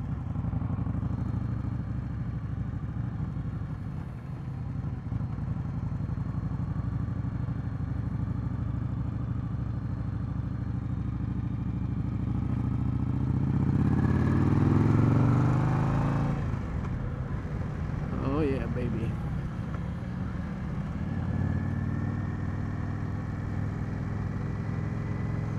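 A 2020 Indian Scout Bobber motorcycle engine during a test ride at a dealer demo day, a steady, close, low rumble with rising revs and a brief louder acceleration surge midway, then settling back to a constant drone.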